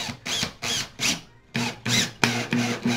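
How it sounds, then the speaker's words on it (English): Power drill driving screws into small wooden fence pieces for a farmhouse-style craft, short repeated bursts of whirring motor with pauses between, close and fairly loud. "So I'm just going to screw these in."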